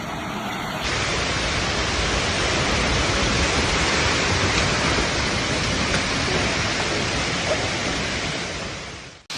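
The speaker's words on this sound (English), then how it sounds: "下冰雹了！" A dense, steady roar of pelting hail hits surfaces nonstop during a severe storm in Nanchang, China, loud and unbroken, with no voices.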